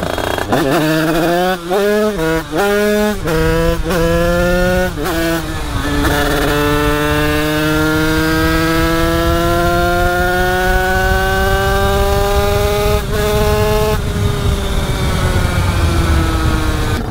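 A motorcycle engine catches after a push-start, sputtering through a few uneven bursts before settling into a loud, steady run that slowly climbs in revs, heard close and alone.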